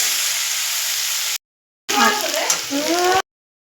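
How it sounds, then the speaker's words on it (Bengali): Potato pieces fry with salt in hot oil in a home kitchen, giving a steady close sizzle that stops briefly, then returns with faint stirring and clinks. "প্রথমে নুন দিয়ে আলুটাকে একটু হালকা লাল ভাজা ভাজা করে নেব।"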